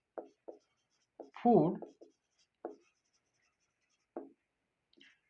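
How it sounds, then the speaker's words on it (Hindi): A pen writes by hand during a spoken biology lesson, making short, soft scratching strokes spaced irregularly across the clip, with one brief word spoken in the middle. "तो इसको लिखते हैं सबसे पहले"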